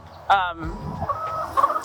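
Hens cluck in a backyard coop with nest boxes, several short close calls in quick succession with some faint background noise.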